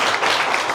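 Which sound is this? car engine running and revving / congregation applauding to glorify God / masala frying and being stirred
congregation applauding to glorify God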